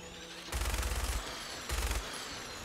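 Gunfire in the video game Fallout 4 comes in two loud, rapid bursts, the first about seven quick shots and the second shorter, with faint background noise between them.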